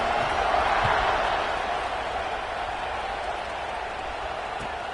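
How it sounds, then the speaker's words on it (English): A football stadium crowd roars as the defense takes the field, a dense, steady wall of cheering and noise that stays loud throughout with no clear single voices. "This place is roaring"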